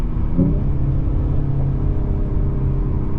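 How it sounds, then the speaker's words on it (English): A 2021 Mercedes-Benz E53 AMG's engine and exhaust give a steady, loud low rumble from inside the car, with no voices over it. "But it's still fun and the car sounds excellent."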